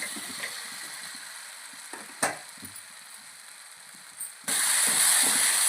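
Mutton poured into a hot, sizzling masala gravy for a brinjal mutton curry: a soft simmer crackles quietly, then bursts into a loud, steady hiss and sizzle near the end.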